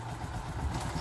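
A Bajaj Boxer X150 motorcycle engine idles with a steady low rumble and light mechanical clatter, close by and continuous, on a bike being checked for loss of power and clutch trouble.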